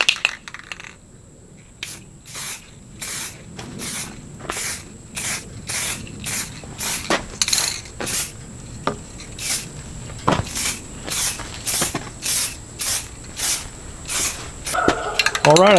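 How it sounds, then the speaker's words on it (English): Short hissing bursts from a black spray can coat a Zebco fishing reel, about a dozen evenly spaced, close-up sprays with quiet gaps between them and no talking. "when you're spray painting, you want to start with the lighter coat"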